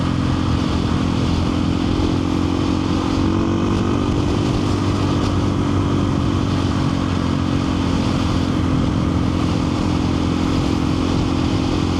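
A KTM 500 EXC-F dual-sport motorcycle cruises country roads with a loud, steady single-cylinder engine drone and rushing wind, heard up close from the rider's position with no talk.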